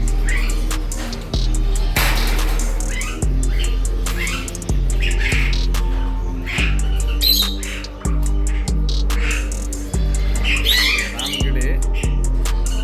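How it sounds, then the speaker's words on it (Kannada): A crowd of assorted caged birds, including mynas, squawks and chirps loudly and continuously in a bird shop in Kuwait, with dense overlapping calls and sharp repeated cries close by. "ನೀವು ನೋಡ್ತಾ ಇದ್ದೀರಾ ವಿವಿಧ ವಿವಿಧ ಬರ್ಡ್"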